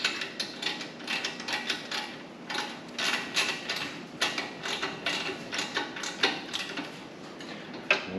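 Someone tightens the fishtail exhaust pipe bolts on a Harley Ultra Limited with a ratchet. A steady series of close, crisp clicks repeats rapidly and evenly throughout.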